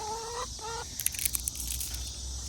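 Chickens cluck nearby in their coop, a couple of tonal calls followed by brief scratchy clicks, over a low steady background hum.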